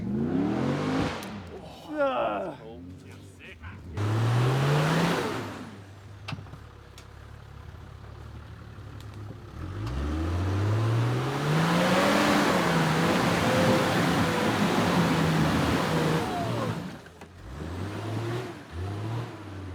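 Diesel Toyota 40 Series Land Cruiser revving through several rising and falling pulls, the engine growing loud and close then fading, with some talking in between.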